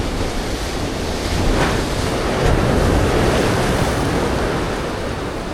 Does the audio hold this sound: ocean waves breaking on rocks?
yes